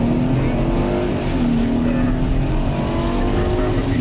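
A Mercedes car with an M272 V6 engine accelerates at full throttle, its engine note climbing steadily in a loud, sustained drone heard from inside the car.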